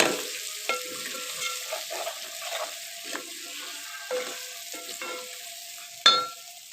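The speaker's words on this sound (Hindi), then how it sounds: "तो जी अब ये मसाले वगैरह मैंने भून लिए हैं" Spices frying in desi ghee, stirred with a series of soft scraping strokes and clinks over a light sizzle, ending in a louder knock against the pan.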